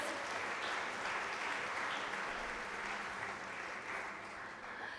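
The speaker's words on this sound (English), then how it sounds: "Can we have a huge round of applause for the panelists?" Steady round of applause from the audience at an HR panel discussion, even, continuous clapping heard fairly distant and unbroken throughout.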